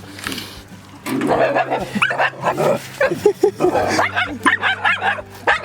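A jealous pet dog barks, yips and whines excitedly and repeatedly, close and loud, alongside a steady low hum.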